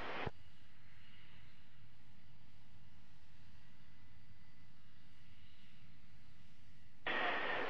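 A jet aircraft sits on the runway near takeoff, giving off a faint, steady engine drone, with short louder bursts of noise at the very start and end.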